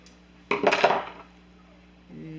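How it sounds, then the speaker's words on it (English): Scissors cut through denim while distressing homemade jean shorts, giving a quick cluster of close metallic snips and rasps that fade into quiet. "I'll get it started with the seam ripper at the top, and then I'll put my scissors in."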